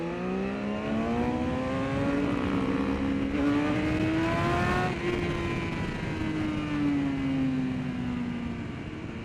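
A Ducati 999R motorcycle runs on the Thunderhill West race track, its engine note climbing steadily under throttle and then falling away, heard at moderate volume and somewhat distant, with no talk.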